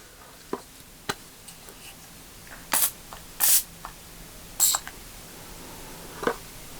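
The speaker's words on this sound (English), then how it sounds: "it's just a setting spray" Several short hissing bursts of makeup setting spray, each about a third of a second, with faint clicks and handling noises between them in a quiet room.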